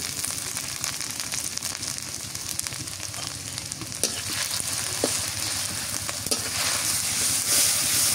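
Garlic paste and onion paste fry in hot oil, giving a steady, close sizzle with occasional stirring scrapes and sharp pops, growing slightly louder toward the end.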